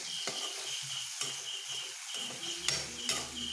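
Tomato and green chillies being sautéed in a pan, with a soft sizzle and a few sharp clinks and scrapes of a spoon stirring against the pan, all fairly quiet.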